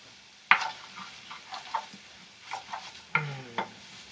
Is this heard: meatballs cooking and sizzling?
yes